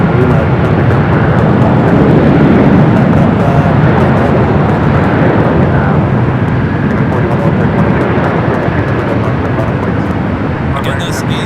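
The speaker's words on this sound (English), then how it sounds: "this A330neo, the 900 series heading to JFK, flight 958, slowly but surely making its way over there to 24 left." At LAX, an Airbus A330-900neo taxis toward runway 24 Left, its loud, steady engine roar filling the air without a break. A voice talks over the noise.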